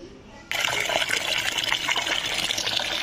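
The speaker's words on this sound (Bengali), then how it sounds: "তো পাতাগুলো কিন্তু আমি ভালো করে ধুয়ে নিই" Bottle gourd leaves are washed under running water, a steady close gush of flowing tap water that begins abruptly and continues with splashing as the leaves are handled.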